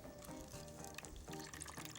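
Water drips and splashes out of a soaked cotton and polymer pad as it is squeezed by hand, close and fairly soft, with no talking.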